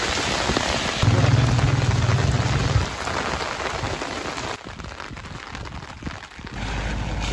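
Heavy storm rain pours down steadily in Dadyal, Azad Kashmir, a dense, loud, continuous wash of drops hitting surfaces close by, with no voices over it.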